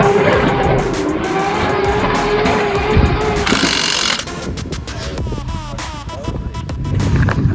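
A 2JZ-engined wagon drifting on a track, its engine roaring loud and close with sustained revving, tire squeal and skidding noise, and a brief burst of broadband hiss midway.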